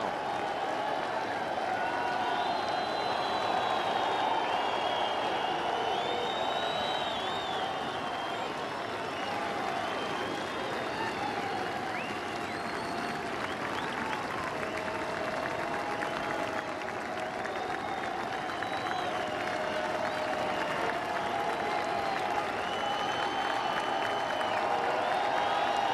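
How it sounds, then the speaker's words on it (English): Sustained applause and cheering from a golf gallery in the grandstands behind the 18th green at the 2008 US Open at Torrey Pines, greeting Tiger Woods; a steady, dense roar of clapping that fills the clip without a break. "Let's listen how this crowd appreciates what he's done today."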